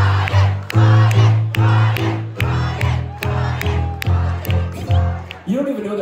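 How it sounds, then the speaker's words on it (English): A concert crowd at an album release show cheers and screams in loud, rhythmic swells, pulsing with sharp accents like chanting or stomping, close and dense, ending in a high whooping rise. "You don't even know they're cheering for you now"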